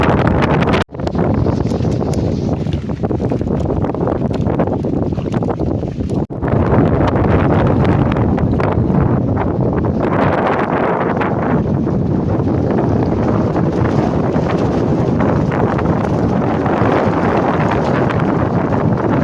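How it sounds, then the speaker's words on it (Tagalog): Powerful wind roars and buffets the microphone continuously, a loud rushing blast with gusty surges and a brief dip near the start. "Ang lakas talaga ng hangin."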